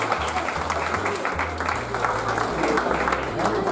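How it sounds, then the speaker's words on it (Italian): An audience at an Italian book presentation breaks into applause, a steady wash of many hands clapping indoors that carries evenly throughout, with voices and low sounds mixed underneath. "facciamo un applauso"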